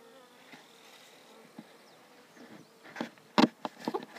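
Bees buzzing around a simple $10 hive while frames are fitted, soft and intermittent, with a few louder close passes near the end.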